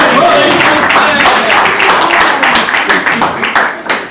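A live audience at a talk on debt and money applauds with loud, dense clapping that continues steadily and then thins into separate claps toward the end.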